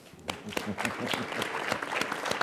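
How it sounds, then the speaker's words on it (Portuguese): A burst of applause from a conference audience, many hands clapping densely and steadily, fairly loud throughout. "É justo o aplauso ao Ricardo."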